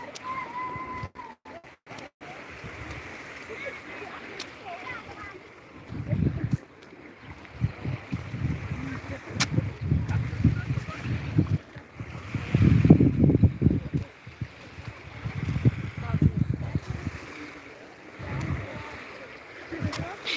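Wind gusts and sea waves at the Ukrainian seaside come in low, rushing bursts that buffet a nearby microphone, with soft background murmur between them.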